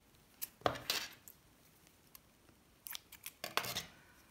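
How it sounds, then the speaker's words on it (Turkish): Scissors snip through knitting yarn after a knitted piece is bound off, giving a couple of quiet, crisp cuts separated by a pause, close by and alone without any talk. "İpi kesiyorum."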